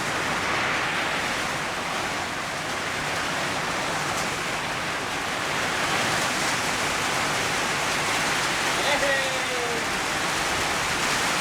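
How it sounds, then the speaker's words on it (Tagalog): Steady rain falls outdoors, a dense continuous hiss lasting the whole stretch at fairly high level, with no distinct drops or voices standing out. "Umuulan eh."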